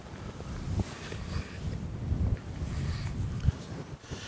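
Gusty wind buffets the microphone outdoors beside a Ford Transit camper van conversion, a continuous rumbling roar with several stronger gusts and no speech.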